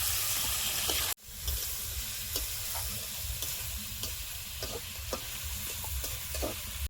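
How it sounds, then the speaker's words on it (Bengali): Vegetables fry with salt and a pinch of turmeric, giving a steady close sizzle with light stirring clicks. The sound drops out for an instant early on, then the frying carries on evenly with no talking. "লবণ আর 1 চিমটি হলুদ দিয়ে ভেজে নেবো,"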